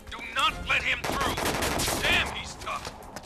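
Shotgun blasts in the video game Disaster: Day of Crisis, several loud shots in quick succession over a busy game soundtrack, with brief voices mixed in.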